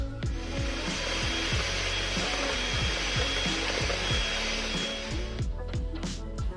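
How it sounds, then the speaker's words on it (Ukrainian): An electric mixer whips egg whites with sugar for homemade ice cream. Its steady motor whine runs loud and close throughout, with rhythmic grinding pulses as the beaters turn, then stops near the end. "додаємо до них цукор і збиваємо до пишності"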